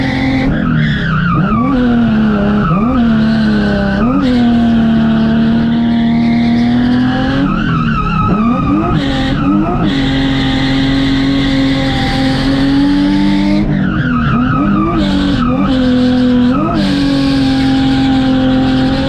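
Cars drifting in tandem around an abandoned power plant, tires skidding and squealing continuously over loud revving engines, sustained and near throughout.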